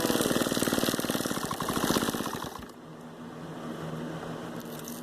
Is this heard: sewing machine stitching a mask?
yes